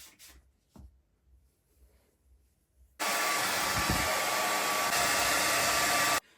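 A hair dryer drying natural 4C hair starts suddenly after a quiet pause and then runs loud and steady at close range, with no talk over it.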